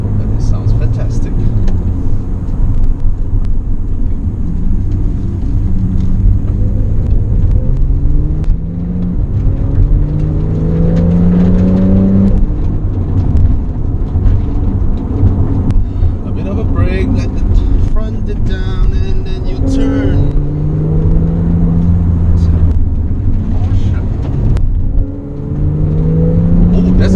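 A 2017 Porsche 911 Carrera S with the optional sports exhaust drones and swells through gear changes from inside the car, steady engine tone with rising pulls, while someone talks over it throughout.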